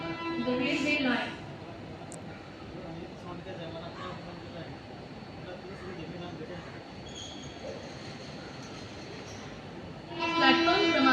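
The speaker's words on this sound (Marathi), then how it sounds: "Fast train is passing." A fast train rushes through an Indian railway station, a steady loud rumble of wheels and carriages filling the whole stretch, with station announcements and a horn-like tone standing out near the start and end.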